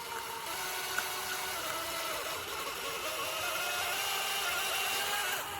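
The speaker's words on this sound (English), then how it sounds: "That drill works pretty good." A steady, loud electric drill with a paddle mixer whirs continuously for several seconds, its motor tone holding nearly constant with slight shifts in pitch.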